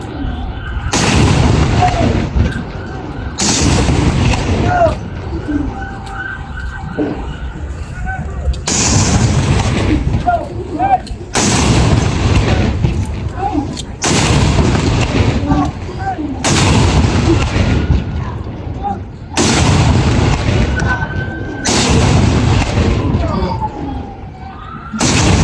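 The Philippine Navy fires a 21-gun cannon salute at Harbour Square on Manila Bay. About nine heavy booms come at a few seconds' interval, each rolling and echoing, with people talking nearby.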